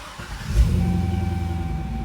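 A Corvette with a loose relay connection starts up: a brief crank, then the engine catches and settles into a steady, close idle rumble with a faint high whine, no voices.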